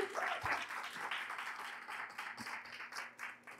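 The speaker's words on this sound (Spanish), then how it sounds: "quisiera que les demos por favor la bienvenida con un fuerte aplauso a nuestros dos invitados del día de hoy" An audience at an after-office talk claps to welcome two guests, with soft, scattered applause that starts fuller and then thins into uneven individual claps.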